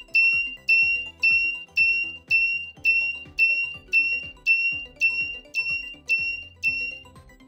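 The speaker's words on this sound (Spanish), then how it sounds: "Este circuito nos ofrecerá un efecto auditivo en el zumbador, la carga y descarga de los capacitores." An active 5V buzzer in a capacitor charge-discharge circuit gives sharp, evenly spaced beeps, about two per second, each fading quickly, loud and alone.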